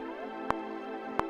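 A synth note with a long pitch glide slides smoothly in a short, sustained phrase, punctuated by two brief clicks, moderately loud with no voices.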